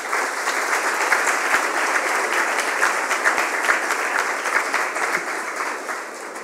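Loud, sustained applause from an audience at an awards ceremony as a speaker is welcomed, a dense even clatter of clapping that tapers slightly at the end.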